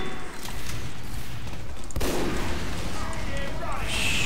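Sniper rifle fire in Team Fortress 2 on the capture-the-flag map Doublecross, a sharp gunshot boom about midway through a dense mix of game battle noise and other gunfire, fairly loud and close.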